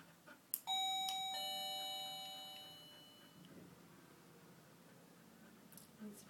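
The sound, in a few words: doorbell ringing for hearing dog training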